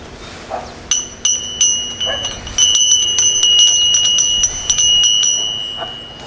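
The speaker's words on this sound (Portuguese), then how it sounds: "Para entrar, tem que tocar uma campainha à moda antiga." An old-fashioned bell at the entrance of an arts project venue rings repeatedly with bright, clear metallic tones. The strikes come in irregular clusters and their ringing overlaps and sustains over faint room noise.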